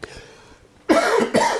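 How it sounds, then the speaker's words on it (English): A person coughs close to the microphone, two or three harsh bursts in quick succession after a brief quiet stretch with a faint earlier noise. "Sorry for coughing in the last days"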